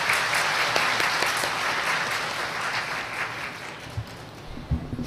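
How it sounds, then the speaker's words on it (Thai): An audience at an academic panel on intellectual property law and AI applauds the speakers, a full burst of clapping that thins and fades over about five seconds, with a few scattered knocks near the end. "ขอขอบคุณวิทยากรทุกท่านค่ะและขอเสียงปรบมือด้วยค่ะ"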